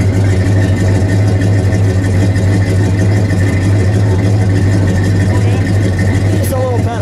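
1970 Dodge Super Bee with a 440 V8 idling, a loud, close, steady low rumble with a slight uneven lope throughout.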